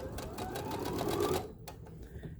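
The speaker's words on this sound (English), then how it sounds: "as I'm stitching, my goal is to use my fingers here just to guide that against the blade" A sewing machine stitches a pieced border with rapid, steady mechanical chatter for about a second and a half, then stops, leaving a few faint clicks.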